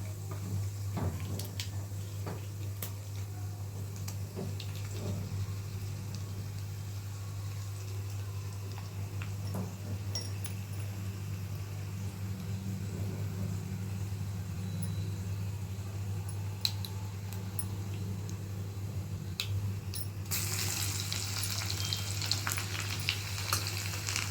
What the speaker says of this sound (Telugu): నాకైతే పప్పులు బాగా ఇష్టం, సో నేను పప్పులు వేసుకుంటున్నాను